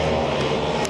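Racing quads line up on a frozen oval, engines revving hard together in a loud, dense, continuous drone with a rising whine near the end.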